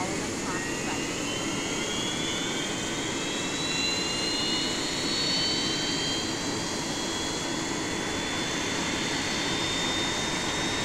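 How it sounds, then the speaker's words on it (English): An Airbus A320 jet engine spools up during an engine start in the X-Plane 11 flight simulator, a steady loud turbine roar with a rising whine climbing slowly in pitch throughout. "So this looks like a positive start for engine 2."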